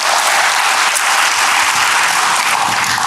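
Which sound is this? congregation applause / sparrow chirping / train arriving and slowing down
congregation applause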